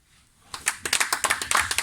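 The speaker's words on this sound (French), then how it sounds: "Applaudissements" Rhythmic clapping from a small group of party activists and supporters at a political rally of a section abroad, starting after a near-silent moment and continuing as a steady series of distinct, fairly close claps.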